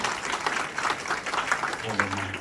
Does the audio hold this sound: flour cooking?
no